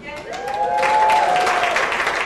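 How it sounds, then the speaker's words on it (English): A comedy club audience breaks into steady applause that swells and holds, with a few voices mixed into the clapping crowd. "Why are you clapping?"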